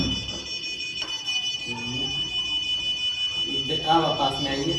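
A DIY smart alarm dumbbell rings with a steady, high electronic beeping that keeps going throughout while someone talks over it nearby.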